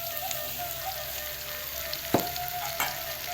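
Galangal and ground spices fry with a steady, close sizzle in a pan, broken by two sharp scrapes or knocks of a utensil as they are stirred; no voices.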